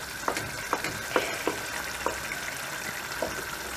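Menemen with melting cheese sizzles steadily in a pan, a continuous close frying hiss broken by several soft stirring scrapes and taps at irregular intervals.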